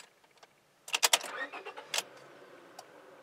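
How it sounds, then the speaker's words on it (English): A Honda Civic engine cranks with a few quick bursts and catches, then settles into a low idle, fairly close and isolated. "take off your emergency brake and start your engine."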